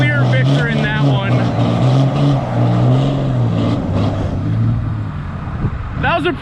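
Tuned Cummins and big-turbo Duramax diesel pickup trucks strain against each other in a tug of war, their engines droning loud and steady with shifting pitch, while voices talk over the noise.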